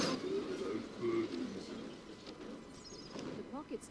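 Birds in the fantasy strategy game BattleForge give soft cooing calls over busy battle ambience and background game effects, with a few brief chirps near the end.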